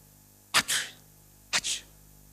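A man sneezes twice, about a second apart, each a sharp close burst followed by a breathy release, over a faint steady hum.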